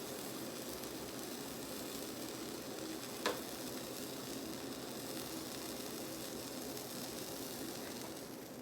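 A grain-free paleo pancake made from Birch Benders mix cooks in a pan with a faint, steady, even sizzle throughout, broken once by a single brief click near the middle.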